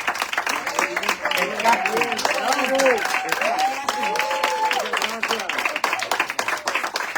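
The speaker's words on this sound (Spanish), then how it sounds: "Un aplauso de nuevo para Carlos Morales, Martín Acosta y todo su elenco" Audience applauding performers at a stage event, a lively burst of individual claps with voices and calls weaving through it, moderately loud and fluctuating.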